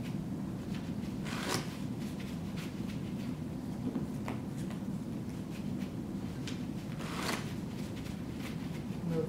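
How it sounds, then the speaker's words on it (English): Six decks of playing cards being shuffled and stripped in repeated passes, with brief riffle bursts around 1.5 and 7 seconds over a steady low rustle, close and moderately loud, no talking. "shuffle, strip, shuffle."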